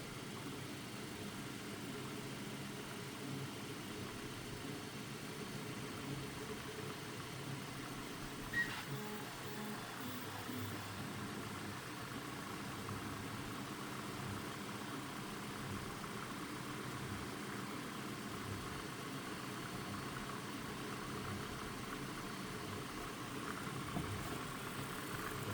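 A Bedini pulse motor with parallel drive connections, 20 and 16 AWG wire, running and slowing down: a faint, steady mechanical hum and whir that carries on evenly, with no voices.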